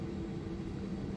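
Steady airplane drone near Somerset Airport in a video game, a continuous low engine rumble with no breaks, fairly loud and unchanging across the moment.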